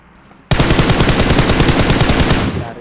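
Loud, rapid automatic gunfire from a shooting video game erupts suddenly and continues as a sustained, evenly spaced burst for about two seconds before cutting off, close and dominant with no voices over it.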